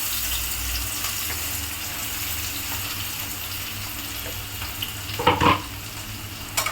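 Three large sliced onions frying in a pan for a mixed-fish curry, a steady close sizzle throughout with a brief burst of stirring and clatter near the end, no talk.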